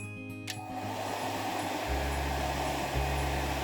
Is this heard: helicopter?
no